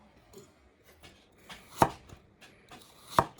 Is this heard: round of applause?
no